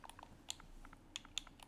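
Rapid, uneven clicks of fingers typing on a keyboard while playing Far Cry 5 Arcade on Xbox, close and fairly quiet, with short pauses between bursts and no talking.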